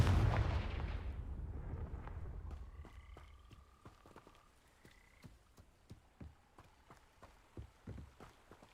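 A Confringo fire spell blast in Hogwarts Legacy, a loud booming burst that rumbles and fades over a few seconds, followed by a scatter of light sharp taps and small impacts.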